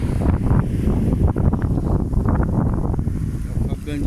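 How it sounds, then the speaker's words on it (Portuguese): Strong wind buffets the microphone on a windy road where two people are out cycling, a loud, steady low roar that fills the whole stretch without letting up. "Olha o vento como tá forte."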